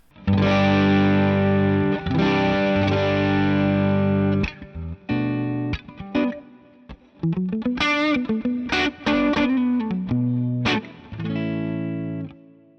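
Thick, fuzzy distorted electric guitar through a tube amp with heavy gain, sustained chords ringing out then choppy muted stabs and short riffs, loud and close.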